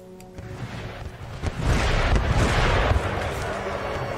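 Artillery fire in Empire Total War, a dense battle of booming cannon blasts and crackling musketry building into a loud, sustained roar, with someone talking over the din.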